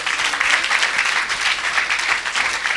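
A church congregation claps in loud, sustained applause, a dense, even wash of many hands with no pauses, filling the room for a few seconds.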